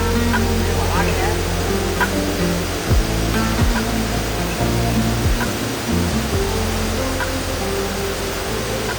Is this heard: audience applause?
no